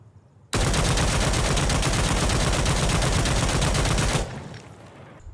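Sustained burst of G3A3 rifle fire in the video game Insurgency Sandstorm, a loud, dense automatic volley lasting several seconds before stopping abruptly, leaving a fading echo.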